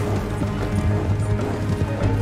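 A horse galloping in Red Dead Redemption 2, steady hoofbeats under a dense rumbling mix of game sound, continuous and moderately loud.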